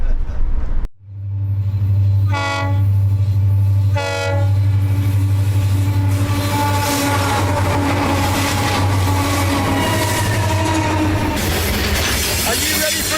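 A train on an African railway rumbles loudly and steadily nearby, its horn sounding in two distinct blasts early on, with clattering rail noise building beneath.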